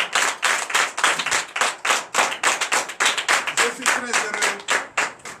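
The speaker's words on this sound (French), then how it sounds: "Donnez encore de vives acclamations à notre Seigneur." A church congregation at a Friday night deliverance and prophecy service claps in a fast, steady rhythm while voices cheer and acclaim, loud and close, with a few spoken words mixed into the beat.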